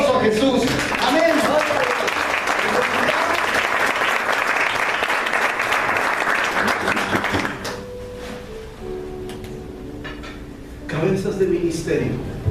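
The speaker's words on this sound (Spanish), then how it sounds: "le damos un aplauso a Jesús" Loud, dense applause from a church congregation fills the first several seconds, then fades to scattered claps under a sustained organ-like tone and a few voices.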